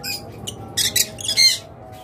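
Pet birds in a crowded bird shop selling lutino red-eye birds, letting out short bursts of high chirps and squawks in quick succession over a low steady background hum.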